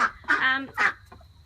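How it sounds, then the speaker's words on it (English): A loud, harsh call from a backyard duck kept with chickens, a few honking quacks in quick succession, close by and with no talking. "We have a very noisy duck."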